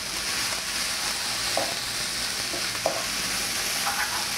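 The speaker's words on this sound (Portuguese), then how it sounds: "Dá uma mexida, porque o colorau ele vai fubar, então pode dar uma empelotada" Annatto (colorau) gets stirred into onions sizzling in a pan, a steady loud frying hiss with a few soft scraping stirs of the spoon, no voices.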